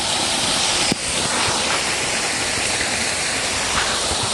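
A creek rushes nearby in a steady, dense broadband wash of flowing water, loud and continuous, with one brief click early on and no speech.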